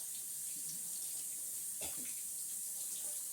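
Tap water running steadily over a coconut to wet its shell, a soft continuous splashing hiss with one brief thump as the nut shifts, heard alone.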